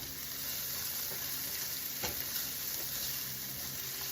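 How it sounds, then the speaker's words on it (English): Broccoli is stirred into softened onions sautéing in a pan, a soft, steady sizzle at low level with a single faint utensil knock midway and no talking. "in comes our broccoli. Stir that in with the onions."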